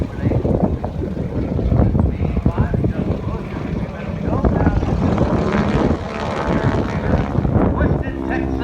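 A propeller-driven trainer airplane performs aerobatics at an airshow, crossing the top of a loop inverted, diving on a 45-degree down line and rolling upright. Its engine drones loudly and continuously with wind noise, and the pitch shifts near the end.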